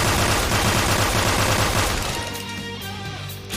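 Dense rapid gunfire in the video game Persona 5 Royal, a loud continuous burst of shots that thins out toward the end, with no talking over it.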